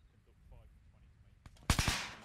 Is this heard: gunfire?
yes